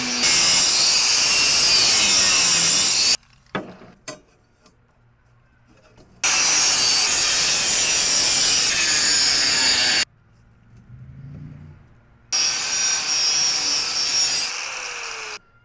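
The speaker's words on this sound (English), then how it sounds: "so now I'm gonna work on the other side, gonna cut all of that extra stuff" A power tool cuts sheet material for a transmission skid plate in three long, loud, harsh bursts, with quiet pauses and faint handling noises between them.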